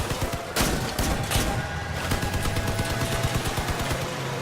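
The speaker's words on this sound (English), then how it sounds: "now these machine guns are probably going to pick me apart" Machine guns fire in the Crossout vehicle combat game, with dense overlapping bursts of rapid gunfire and sharp impacts rattling continuously without pause.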